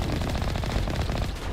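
Rapid, continuous bursts from a mounted gun in the video game Mass Effect Legendary Edition, loud and dense with tightly packed repeating shots filling the whole moment, no talk over it.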